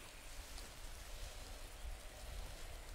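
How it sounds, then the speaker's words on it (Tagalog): Steady rain falling in the Metal Gear Solid 3: Snake Eater video game, a dense even hiss of drops spread across the whole clip with no talking over it. "Umuulan"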